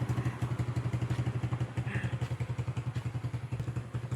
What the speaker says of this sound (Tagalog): Ingay po ng motor